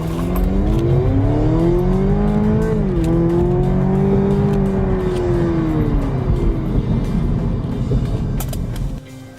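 A 2017 Cadillac ATS coupe pulls away from a stop sign with loud, steady engine drone that climbs in pitch as it gathers speed, dips briefly at a shift, and keeps rising close to the microphone.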